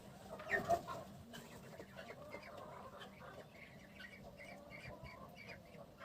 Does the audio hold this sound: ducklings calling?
yes